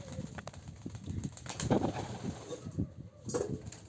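Caged pigeons coo softly in low, rolling murmurs with a few wing flutters, quiet and close, with no talking over them.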